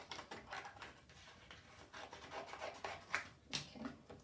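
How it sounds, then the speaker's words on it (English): Card being trimmed for a scrapbook page, a quiet close series of scratchy rubbing and cutting strokes in an irregular rhythm, with no talking. "I'm just going to trim that down as well."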